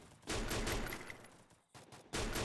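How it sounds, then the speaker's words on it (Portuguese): Rapid bursts of gunfire in the video game Free Fire, loud dense firing with a brief pause before it resumes. "eu dei muito tiro"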